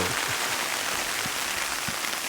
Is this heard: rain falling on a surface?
yes